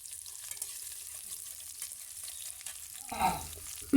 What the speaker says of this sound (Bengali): পেঁয়াজ কুচি একটু লাল লাল করে ভেজে নেব।